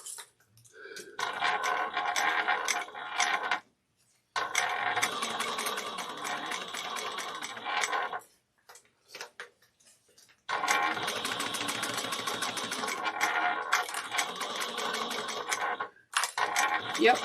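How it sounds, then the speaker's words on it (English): A sewing machine stitches a Kandu bag, running in three long, steady mechanical bursts that stop briefly between seams. "I am sewing from the left side"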